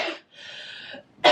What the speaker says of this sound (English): you hear how intense that cough was?